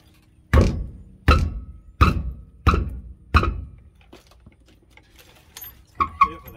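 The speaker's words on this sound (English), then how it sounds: "Hit it with a hammer." Five sharp metallic hammer strikes at an even pace on a rear brake rotor of a 2012 Ford F-350 dually, each ringing briefly, followed by a few lighter clinks.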